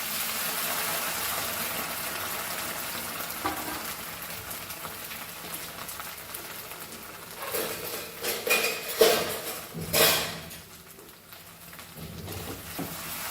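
Masala frying in a pan for Goan pork sorpotel: a steady broadband sizzle throughout, with sharper metallic clinks and scrapes of a utensil against the pan clustering in the second half.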